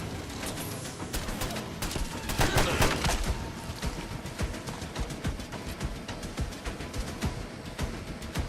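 Rapid bursts of battle rifle fire in the Fallout London video game, dense overlapping shots loud and close, with a heavier cluster of blasts partway through and no talking.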